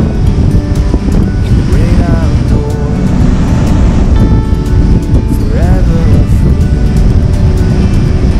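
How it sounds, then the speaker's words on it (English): Ocean surf at a beach, a constant loud wash of breaking water and wind noise across the microphone, with a faint voice or tonal sound drifting through at moments. "I'm going to let you guys enjoy a little bit of the water before my feet get soaked."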